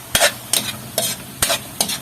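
Japchae noodles are stir-fried in a pan with five rhythmic scraping stirs, each about half a second apart, over a faint sizzle and with no talking.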